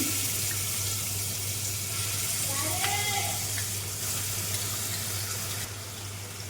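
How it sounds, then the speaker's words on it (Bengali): Ground spice paste for an aloo fulkopi curry sizzling loudly and steadily in a pan, a constant broad hiss with a low hum beneath and faint scraping of stirring. "এবার আমি এই পেস্ট করা মশলাটা দিয়ে দিচ্ছি"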